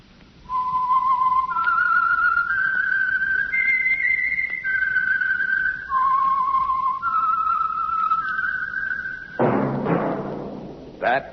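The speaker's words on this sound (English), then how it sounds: "That whistle is your signal for the Signal Oil Program, The Whistler." A clear whistled melody serves as the theme for a vintage radio mystery program, its rising and falling notes held in long tones, ending with a sharp orchestral burst and a sweep.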